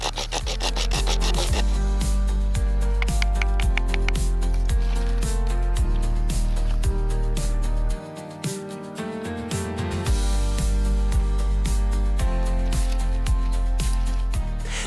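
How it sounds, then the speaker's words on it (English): A knife shaves fine curls and a pocket-knife saw cuts fatwood into tinder, making loud, close, repeated rasping strokes in a rough rhythm. There is a short quieter break midway and no talk. "Shave off fine, fluffy curls from the fatwood to create a tinder nest."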